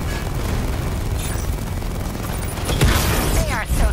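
Heavy gunfire and booming impacts as an overloaded power core is shot during a tank battle in Batman: Arkham Knight, a dense rumbling barrage that swells louder near the end, with voices talking over it.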